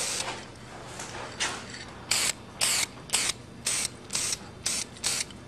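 Spray paint hisses from an aerosol can onto a go-kart steering spindle in a run of short, evenly spaced bursts, each about half a second long, close and fairly loud, with only faint background noise between them.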